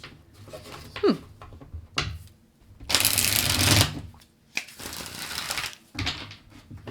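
Riffling tarot card shuffles in a few bursts, crisp papery flutters up close with short pauses between them, no talking.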